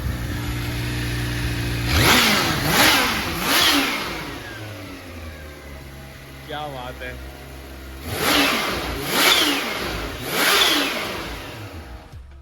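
The H2's turbocharged engine revs hard in three surging bursts, pauses with a brief exclamation, then revs again three times, a high turbo boost whistle riding over the roar.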